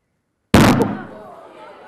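A balloon filled with equal parts hydrogen and oxygen explodes in one sharp, loud bang during a live fire and flame demonstration, with a ringing decay that fades over the following second.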